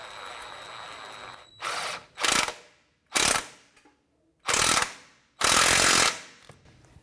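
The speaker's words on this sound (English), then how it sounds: "So I'm going to take my 19mm socket and gun and snug it up." An impact gun with a 19mm socket tightens a rack and pinion bolt on a 1992-1996 Toyota Camry, firing five loud close bursts of hammering rattle separated by short pauses, with no talk.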